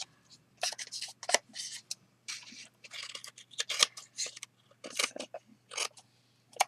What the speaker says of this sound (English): just trim it down with a pair of scissors